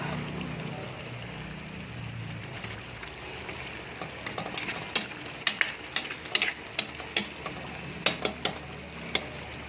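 A spoon stirs ginataang gulay, string beans and squash with malunggay simmering in reduced coconut milk, in a pan over a soft bubbling sizzle, with a series of sharp rhythmic clicks and taps against the pan growing more frequent toward the end.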